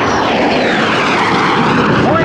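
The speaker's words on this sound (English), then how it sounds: "There goes the afterburner." A Mikoyan-Gurevich MiG-17 Fresco jet roars at full power with afterburner lit during a low pass at a lakeside air show, a loud sustained broadband blast with rising tonal whine, an announcer talking over it throughout.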